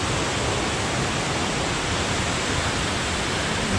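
The Uwe Molino waterfall in Banggai roars as a loud, continuous broadband rush of falling water, steady throughout with no other sounds.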